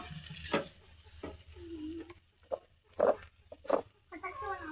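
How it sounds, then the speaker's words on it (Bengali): Chili powder and turmeric are stirred in a pan, giving faint, scattered scraping strokes and soft sizzling bursts over a quiet background. "গুঁড়ো মরিচ, হলুদ গুঁড়ো, এবার এটাকে লাড়িয়ে নেব।"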